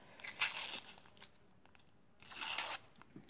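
A small piece of paper is torn by hand in two short, close, crisp ripping bursts separated by a quiet pause, with faint rustling between them and no voices.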